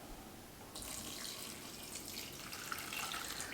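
Water pours into a bread machine pan: a steady, close trickling splash that begins abruptly after a short quiet moment and continues at moderate volume to the end.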